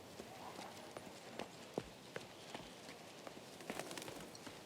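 Horse hooves in King's Bounty II, a quiet soft clip-clop of walking steps in an irregular rhythm under faint game ambience.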